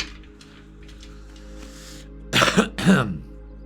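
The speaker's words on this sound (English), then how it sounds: "Again, why I'm clearing my throat." A person clears their throat twice in quick, loud bursts after a quiet stretch with faint breathy sounds.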